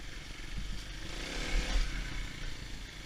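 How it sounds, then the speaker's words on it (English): Dual-sport motorcycle engine droning steadily on a single-track trail, with a brief rise in power midway as the clutch is popped for a wheelie, fairly distant and muffled. "if I can pop a clutch and make the front wheel come up"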